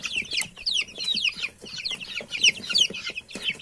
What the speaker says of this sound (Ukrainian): Ось такі наші ціпульки